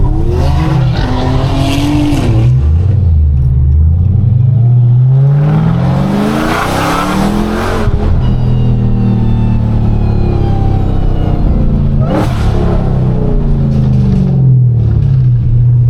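A Dodge Hellcat drives hard through tight streets, its engine revving loudly and droning up and down, with bursts of tire squeal, heard from inside the car.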